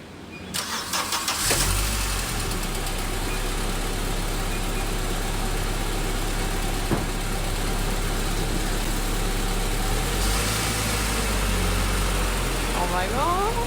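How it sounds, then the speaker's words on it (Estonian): An Audi 80 turns over and fires after sitting for more than two years, then settles into a steady, close, loud idle with a deep low rumble that runs on unbroken. "Kui me juba auto käima saime"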